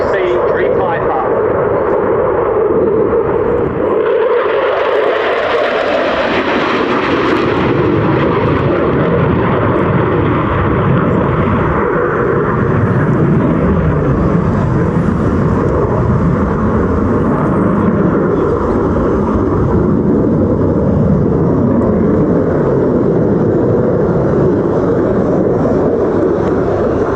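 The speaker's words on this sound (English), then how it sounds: "Senior Captain Stefan de Vries in F-16 Dream Viper." An F-16 Dream Viper fighter jet performs an airshow display at RAF Cosford, its loud, sustained engine roar swelling and shifting as it passes, with a commentator's voice over the PA.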